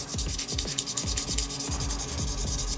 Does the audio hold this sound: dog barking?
no